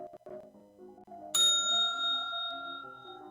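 A single bell ding from the timer for a food inspection practical exam, a cue that repeats every 30 seconds. It strikes suddenly and rings out with a long, slowly fading tone over soft background music.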